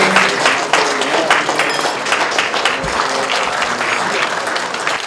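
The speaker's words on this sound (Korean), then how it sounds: "자리 되지 않으신 분들은 박수로 환호해 주시기 바랍니다" A large crowd at a New Year's gathering in South Chungcheong claps loudly and continuously, a dense wash of applause with scattered cheering and murmured voices underneath.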